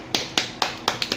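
Six sharp hand claps in a quick, fairly even rhythm, close and crisp, with no talking over them.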